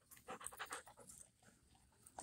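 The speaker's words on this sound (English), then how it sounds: "you gotta watch your dog" Dog panting with rapid, rhythmic breaths close by in a garden, fairly loud throughout and without any talking.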